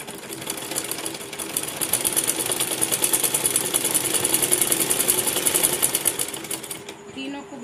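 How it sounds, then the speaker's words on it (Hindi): A close, loud sewing machine runs continuously with fast rhythmic ticking while stitching three layers of salwar fabric and buckram together, stopping just before the end. "तीनों के ऊपर सिलाई लगाएंगे।"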